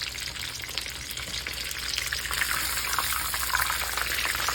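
Thick-cut pork chops frying in hot oil for katsu, a dense steady sizzle and crackle that swells slightly as the meat is turned, no talking.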